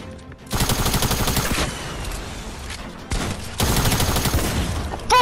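Rapid tactical shotgun blasts in Fortnite, loud and close, in two long dense stretches of repeated firing with a short lull between, no talking over them.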